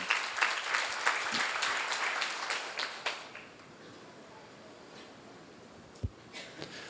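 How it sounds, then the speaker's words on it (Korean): Applause from a congregation at a church seminar, a burst of many hands clapping that fades after about three seconds, leaving quiet room noise with a few faint thumps. "박수로 와주세요."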